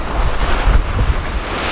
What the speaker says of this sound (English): about 22 knots of wind,